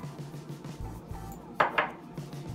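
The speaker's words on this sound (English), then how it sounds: "We're going to mix all our dry ingredients first." A spoon scrapes a mixing bowl while flour, sugar and other dry ingredients are combined for bakes. Two brief, close scrapes stand out over a low, steady background.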